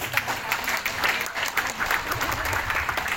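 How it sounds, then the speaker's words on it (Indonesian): Applause from an audience at a groundbreaking ceremony for a university building, a continuous soft wash of many hands clapping at moderate distance, fairly quiet and even throughout. "Tepuk tangan dong."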